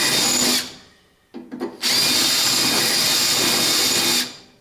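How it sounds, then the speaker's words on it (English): Power drill fitted with an old bit scrapes epoxy paint from a Triumph TR4 rear wheel arch, a loud steady whine with a short break and a few stuttering bursts before running on continuously. "get in there and flat and scrape out the paint"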